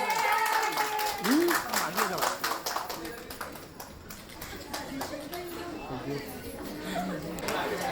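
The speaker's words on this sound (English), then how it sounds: "Can we have a huge round of applause?" An audience at an office Diwali celebration applauds with dense, sustained clapping, while voices chatter over it throughout.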